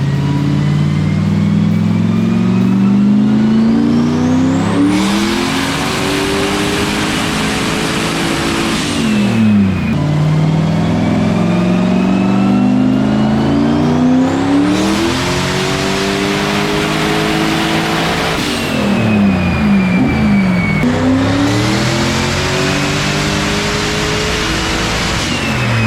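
A turbocharged 4.6-litre two-valve Ford Mustang making full-power dyno pulls, loud engine revs sweeping upward through three runs, each rise ending with a sharp drop and a turbo whoosh before the next, close-up with no talk.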